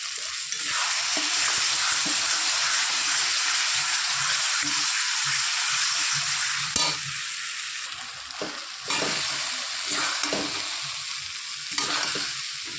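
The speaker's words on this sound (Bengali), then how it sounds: "মশলা ভালো মতো কষিয়ে নিয়েছি" Spice paste for a bhola fish curry being sautéed in a pan, hissing loudly and without pause while a spatula stirs and scrapes in intermittent strokes, close up and free of speech.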